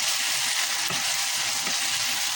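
Koi fish sizzles steadily in a hot pan with spices while being sautéed, a loud, continuous frying hiss with occasional soft stirring knocks and no talking.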